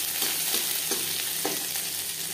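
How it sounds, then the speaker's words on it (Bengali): Crushed garlic fries lightly in hot oil for an ol leaf vorta, giving a loud, dense, close sizzle with a few soft rhythmic spatula strokes through it. "রসুন হালকা করে ভেজে নেব"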